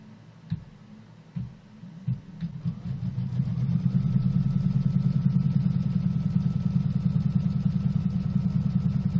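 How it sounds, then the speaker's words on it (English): A sewing machine stitches a tack-down line to secure a strip of quilt fabric, starting with a few clicks and bumps before settling into a steady, fast mechanical whir that runs loudly and evenly to the end, with no talking. "now we're going to put the foot down and stitch this tack down line, which will secure this strip of fabric"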